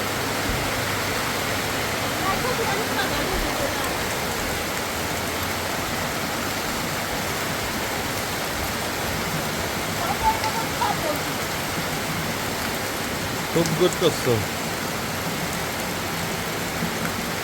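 Heavy rain pours steadily onto a tin-roofed house in winter, a dense even hiss that continues throughout, with a short spoken remark partway through.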